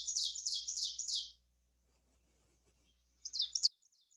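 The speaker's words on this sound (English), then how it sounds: "let's see if you can hear our little ovenbird going teacher" An ovenbird sings a ringing, rapidly repeated two-note 'teacher' phrase four times, then a shorter burst of the same song follows after a quiet pause.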